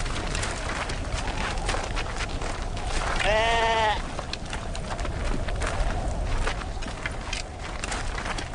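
A single sheep bleats once, clear and fairly close, for less than a second. Steady wind-like noise and background rustle run underneath it and continue before and after the call.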